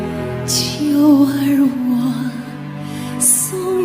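A cello plays a smooth, legato melody with sustained, singing notes, standing alone at a moderate, even volume.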